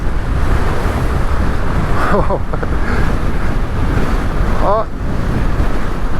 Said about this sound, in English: It's really windy up here though.